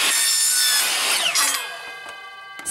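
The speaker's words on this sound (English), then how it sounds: "The easiest way to cut this pipe is with a chop saw." A power chop saw cutting plastic drain pipe for a greywater tank built from a 55-gallon drum gives a loud, close whining cut, with the blade's pitch falling as it spins down, followed by a few sharp clicks.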